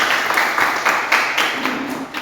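A small classroom group claps briefly during a lesson, several uneven bursts of hand claps close by, fairly loud and somewhat scattered, with no talk over them.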